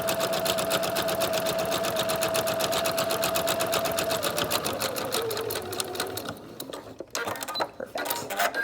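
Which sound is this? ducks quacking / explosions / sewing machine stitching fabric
sewing machine stitching fabric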